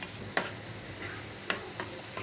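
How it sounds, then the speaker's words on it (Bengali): Spices and green chilies fry in oil while a spoon stirs them in the pan for a tomato chutney, giving a soft sizzle with three or four sharp scraping strokes at uneven intervals; no talk. "একটু নাড়া দিয়ে দেখাই দিচ্ছি। এটা এখন ভাজা ভাজা হোক"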